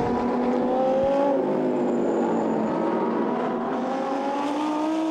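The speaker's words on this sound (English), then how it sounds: "as the car blasts its way down towards the exit of turn 3" Lamborghini Super Trofeo race car accelerating out of turn 3 at the Nürburgring, a loud, steady engine roar with rising pitch that fills the whole stretch without talk.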